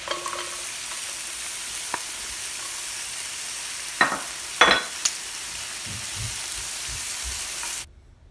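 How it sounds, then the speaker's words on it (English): Onions and garlic stir-fried gently in a pan for pork sinigang, a continuous close sizzle broken by a few short spatula scrapes near the middle, before the sound cuts off abruptly at the end, with no voices. "Add in the onions and garlic and stir fry gently until golden brown."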